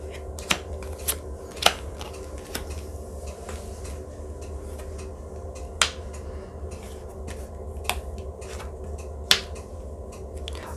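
Tarot cards being shuffled and drawn at a reading table, a series of sharp close snaps and flicks spaced irregularly over a low steady hum, with no talking.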